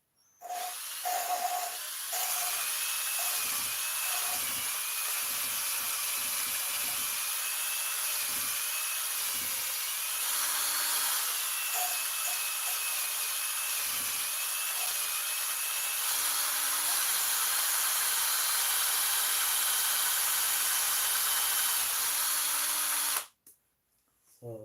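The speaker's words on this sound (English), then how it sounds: "So now we're going to use the drill machine and the sponge" A drill spins a sponge for polishing with grinding paste, a steady high whine running for over twenty seconds with faint intermittent rubbing, then cutting off abruptly.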